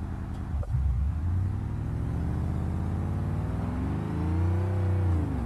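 A car in BeamNG.drive, finished in gloss black paint with matte red pinstripes, drives close up with a loud, continuous engine rumble. After a brief dip the engine revs climb and sweep upward as the car accelerates.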